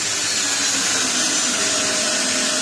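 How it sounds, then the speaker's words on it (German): A cordless drill bores a deep hole into a fruit tree branch during grafting, a steady loud continuous whir with no pauses and no speech. "Und da gehe ich jetzt einfach her mit meiner Akkubohrmaschine"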